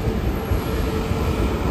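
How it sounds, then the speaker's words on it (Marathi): The Ernakulam–LTT Duronto superfast express arriving at Ratnagiri station gives off a heavy, low, rolling rumble with rhythmic wheel thumps, loud and close for a brief moment. "आणि फायनली आपली गाडी आलेली आहे Ernakulam LTT, direct रत्नागिरीवरून Panvel superfast express"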